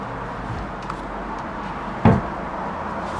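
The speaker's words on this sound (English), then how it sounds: "we now have doors that are closing properly" A door in an apartment under renovation swings shut with one sharp, close thud after a stretch of quiet room tone.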